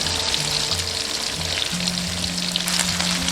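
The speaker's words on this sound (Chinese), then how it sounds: "炸至定型" Large chunks of fish deep-fry in hot oil over medium heat, a loud, steady, close crackling sizzle that never lets up.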